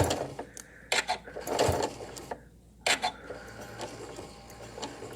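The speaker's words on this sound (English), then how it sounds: "I'm going to slow my machine down a little bit" A sewing machine stitches quilt binding in short, uneven bursts with clicks and knocks between them, fairly close and moderately loud.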